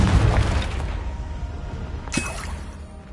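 A Confringo blasting spell explodes in the video game Hogwarts Legacy, a loud booming burst that rumbles and fades, followed by a short sharp crack and a fainter tail, with no talking.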